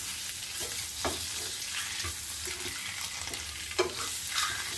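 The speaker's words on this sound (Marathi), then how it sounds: "आता अंडी घालायची याच्यामध्ये. पटापट मिक्स करून घ्यायचं आहे." Eggs get stirred quickly into masala frying in a pan over low flame, a steady sizzle with scraping stirs and a few louder clatters, no talking.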